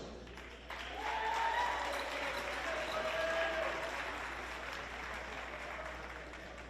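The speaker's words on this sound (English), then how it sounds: "big round of applause, congratulations" Crowd applause at a girls' 2A basketball semifinal, a steady burst of clapping that swells and then holds through the gym.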